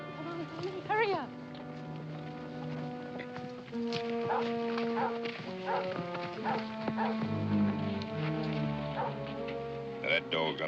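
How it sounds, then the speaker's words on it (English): Hunting dogs bay on a trail outdoors, drawn-out howling cries rising and falling at a moderate distance, mixed with other busy sound, music and some animal movement. "Now, that dog's on a trail. I can tell by his voice."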